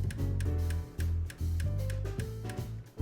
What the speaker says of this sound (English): Doesn't that sound like a safe when it's clicking?